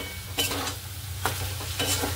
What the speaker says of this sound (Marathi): बटाटे चांगले खरपूस भाजून घ्यायचे